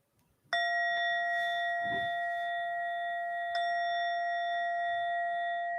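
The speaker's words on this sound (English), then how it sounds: "we'll conclude our practice again with 3 chimes" Meditation chimes mark the end of a guided mid-day meditation practice. Two clear bright strikes, the second about three seconds after the first, each ring out in long sustained metallic tones over a quiet background.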